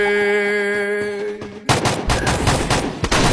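A tonal in-game sound ends and a loud burst of rapid automatic gunfire follows in the Free Fire shooter, with dense, continuous shots and a few sharper cracks close to the listener.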